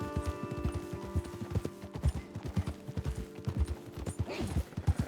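Horses ridden in Red Dead Redemption 2 clop steadily over the ground, a close, rhythmic run of hoofbeats with no voices over them.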